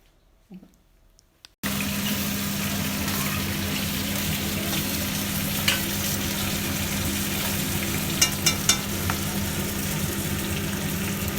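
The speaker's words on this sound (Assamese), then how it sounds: "এয়া মই ভাজি লৈছোঁ মাছখিনি" Magur catfish sizzles and crackles in hot oil after a brief quiet start, a steady loud frying hiss with occasional pops.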